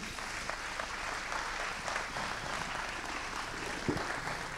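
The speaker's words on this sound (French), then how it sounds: "Je pense qu'on peut vous applaudir." A conference audience at a national solar self-consumption colloquium applauds, a soft, steady wash of many hands clapping, fairly distant and quiet throughout.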